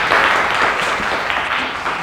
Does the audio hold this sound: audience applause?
yes